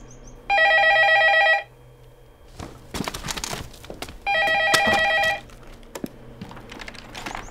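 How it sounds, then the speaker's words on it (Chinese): A telephone rings in two long, loud bursts a few seconds apart, separated by rustling, handling noise and light clicks, with no one speaking. "你得接电话呀"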